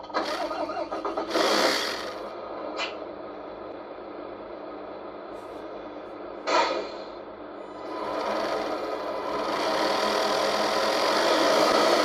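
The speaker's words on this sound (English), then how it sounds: "So if I start the engine by pulling it all the way down" Onboard MFC sound unit of a Tamiya King Hauler RC truck cranks and starts a simulated diesel engine, settling into a steady, buzzing idle that grows slightly louder toward the end, with a couple of sharp clicks along the way.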